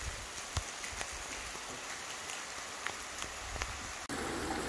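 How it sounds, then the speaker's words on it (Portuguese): Heavy rain falls steadily on a rural farm property near Currais Novos, Brazil, a dense continuous hiss with scattered louder drops and taps, no voices. "Chovendo, faz mais de uma hora, muita chuva já, viu?"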